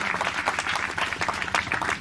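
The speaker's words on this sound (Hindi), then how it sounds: "एक बार जोरदार तालियां बजाएंगे परमेश्वर की तालियां के लिए।" A crusade congregation applauds in continuous, dense clapping with a lively crowd texture, steady and fairly loud throughout.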